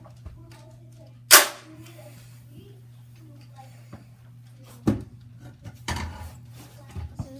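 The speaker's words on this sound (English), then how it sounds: "this is what it sounds like when a tennis ball gun is shooting" A tennis ball gun fires with a sharp, loud pop, followed later by a couple of further thumps and clatter over a steady low hum in an indoor room.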